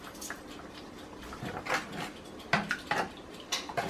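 A spoon stirs sauce for cabbage rolls in a metal pot, giving a few scattered clinks and scrapes against the pot over quiet background, with no talking.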